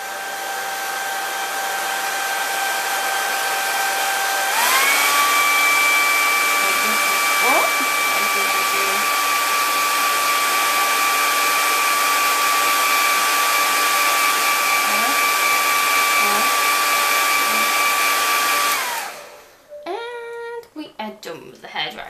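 A handheld hairdryer blows loudly and continuously at close range with a steady whine that shifts pitch once as the setting changes, then cuts off, leaving faint rustling.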